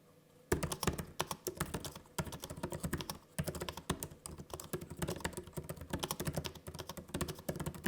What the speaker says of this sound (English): I'll give you a taste of what the actual keyboard sounds like